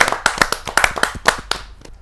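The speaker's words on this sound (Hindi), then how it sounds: "जोरदार ताली के साथ हम" Audience at a Hindi kavi sammelan poetry gathering breaks into applause, a burst of close hand claps with uneven rhythm that thins out and fades toward the end, no voices over it.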